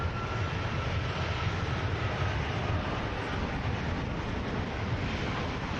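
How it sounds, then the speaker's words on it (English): Jet2 and Norse airliners departing Manchester Airport, bound for London Gatwick: a continuous, loud, broadband engine roar with a heavy rumbling low end and no talk over it. "And 2 London Gatwick departures next. The first with Jet2, the second with Norse."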